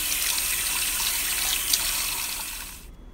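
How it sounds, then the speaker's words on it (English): Cool tap water runs steadily into a sink to rinse raw meat such as chicken, steak or pork chops, a close, even splashing hiss that stops abruptly near the end. "make sure you rinse it off with some cool water before cooking"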